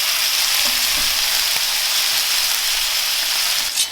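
Fresh ingredients for a korma curry fry lightly in a pan, giving a loud, even, continuous sizzle with a brief stir near the end and no talking.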